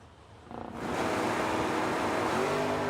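A 2022 Chevrolet Corvette launches at a drag strip: a faint idle swells suddenly into a loud, sustained engine roar that holds for the remaining two seconds.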